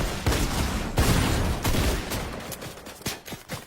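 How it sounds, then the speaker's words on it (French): Rapid bursts of gunfire in the Fortnite battle royale video game crack out in quick succession, loud and dense, with several separate shots toward the end. "Même derrière ça me tire dessus là."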